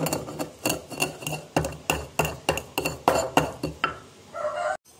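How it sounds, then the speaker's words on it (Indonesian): Salt, MSG and a piece of nutmeg ground in a mortar with a pestle make a series of close, sharp scraping and clacking strokes in a steady rhythm, with no voice over them. "1 sendok makan garam, setengah sendok teh micin, sepotong pala. Ini kita akan ulek."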